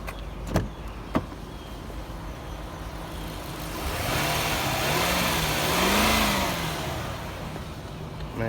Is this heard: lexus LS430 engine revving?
yes